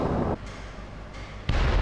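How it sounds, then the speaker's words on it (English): Explosions rock an oil rig in the video game Splinter Cell, heavy booming blasts with a deep rumbling roar that eases and then surges again. "Explosions shook the oil rig"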